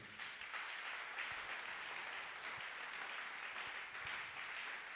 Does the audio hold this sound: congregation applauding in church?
yes